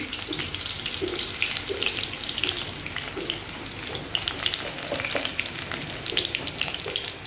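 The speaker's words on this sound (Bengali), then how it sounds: "একটু পাঁচফোড়ন দিয়ে দিচ্ছি" Panch phoron spices frying in hot oil in a pan for a cauliflower curry, a continuous moderate sizzle with scattered crackles and pops, no talking.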